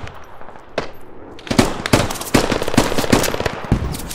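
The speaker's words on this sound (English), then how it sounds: "machine gun on the left" Rapid machine gun bursts and scattered gunshots in a Squad combat game, sharp repeated cracks that come in uneven volleys after a brief quiet start, loud and close.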